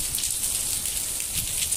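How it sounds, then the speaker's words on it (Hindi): Heavy rain pouring down in Makkah, a dense, loud hiss of drops beating on surfaces in uneven surges, close by with no voices. "ये देखिए बारिश बहुत तेज़ है, बहुत तेज़ है"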